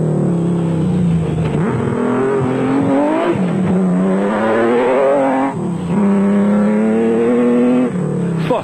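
An off-road race car, part of a Nissan team in a Toyota 1000 desert race, with an engine running rough, revs loudly and steadily for the whole stretch, its pitch rising and falling with gear changes and no talking.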